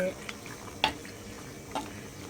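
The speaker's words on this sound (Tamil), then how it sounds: "நாட்டு சர்க்கரையை போட்டுட்டு நல்லா கிண்டி விட்டுட்டு" Jaggery being stirred into a Chettinad pumpkin tamarind curry: a low bubbling simmer punctuated by three distinct spoon scrapes against the pot.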